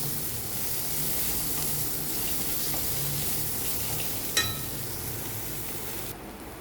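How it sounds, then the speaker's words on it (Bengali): Bitter gourd seeds and spices fry in a pan with a steady low sizzle, an occasional light scrape of stirring and one brief clink, with no talking. "দিয়ে আবারও বেশ কিছুক্ষণ এটাকে নেড়ে চেড়ে ভালো করে ফ্রাই করে নেব"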